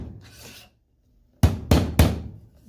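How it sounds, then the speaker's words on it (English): Three firm hammer blows on staples in a stretched canvas frame land in quick succession, close and loud, after a brief soft rustle and a moment of silence. "I'm going to take my hammer and"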